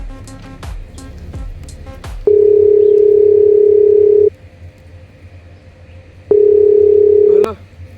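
Telephone tone heard while placing a phone call: two long steady electronic beeps separated by a pause, loud and close, with a brief voice and some noise before the first tone.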